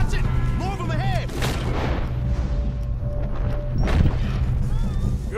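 Gunfire in the Red Dead Redemption video game: sharp, booming shots crack out twice over a busy battle din, with game voices calling out around them.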